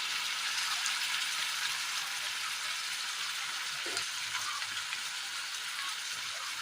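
Fish pieces for a Kerala-style curry frying in a pan, a steady, dense sizzle that holds evenly throughout with no talking over it.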